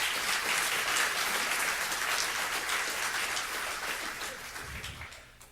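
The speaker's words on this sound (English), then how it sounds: "giving a round of applause to all of our nominees?" Audience applause for teacher award nominees at a county Teacher of the Year ceremony, a dense steady wash of clapping from a crowd that slowly fades toward the end.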